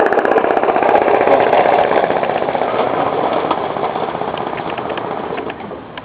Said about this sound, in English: this little compressor? It just has one cylinder, one very small cylinder